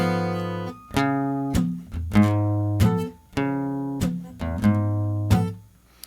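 Acoustic guitar played with palm-muted, percussive strums in a steady rhythm, country-jazz blues chords ringing briefly before being damped, close and clear with no talking.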